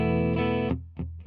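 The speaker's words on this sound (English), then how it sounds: "So here's my clean tone. I've got a Gibson SG going into a Fender Deluxe Reverb" A Gibson SG electric guitar played clean through a Fender Deluxe Reverb amp rings out a sustained chord that fades, followed by a couple of short plucked notes, close and alone.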